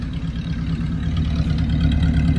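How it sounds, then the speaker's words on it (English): A 1947 Packard Super Clipper idling with the hood up, a steady low exhaust rumble that holds loud and even throughout, with no voices. "Exhaust sounds good."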